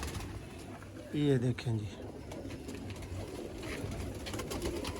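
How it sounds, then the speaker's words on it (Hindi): Teddy pigeons coo in a short throaty burst, fairly close, followed by softer rustling and background noise, with someone speaking briefly. "ये रिजल्टेड और लाजवाब किस्म के टैडी कबूतर हैं"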